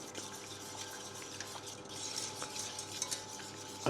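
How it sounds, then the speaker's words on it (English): Corn flour and peach syrup stirred in a pan for a peach pie, a steady soft scraping and swishing with light utensil clicks, close and continuous with no talking. "So we just need to keep stirring until that begins to thicken up."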